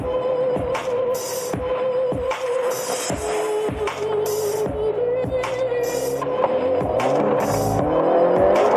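A car with a dual-clutch gearbox is driven hard, its engine climbing and dropping with repeated sharp shifts and short tire chirps, loud and close.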